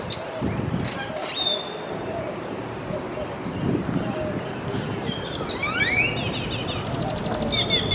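Small birds chirp and tweet in trees near the Alamo in San Antonio, with scattered high calls and a few rising whistles over outdoor wind and city ambience, and a voice speaks briefly.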